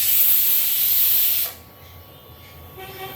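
A Kiam steel pressure cooker whistle blasts a loud, steady steam hiss for about a second and a half, then cuts off sharply, leaving a quiet room.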